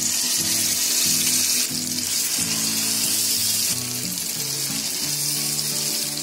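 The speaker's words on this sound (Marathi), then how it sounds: "तोपर्यंत मी भांडी घासून काढली" Dishes being washed and scrubbed at a kitchen sink, with a steady rush of running water throughout and a low tonal hum underneath; no one speaks.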